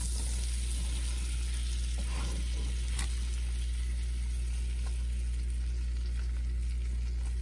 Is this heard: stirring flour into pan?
yes